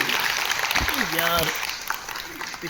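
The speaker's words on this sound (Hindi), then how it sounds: "आप बस इनको इनकरेज करने के लिए जोरदार तालियां बजाएंगे।" Applause at a women's event honouring a cultural academy's guests, moderately loud clapping running throughout while a voice speaks briefly over it.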